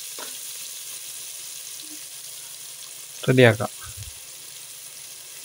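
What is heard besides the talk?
onions sautéing in a pan for ghee rice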